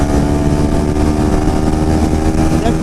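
A motorcycle rides along a highway at night with a loud, steady engine drone and rushing wind noise that hold throughout.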